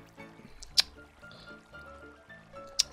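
Lava being placed from a bucket in Minecraft, heard as soft liquid blips with two sharp bright pops over a quiet background of game sounds.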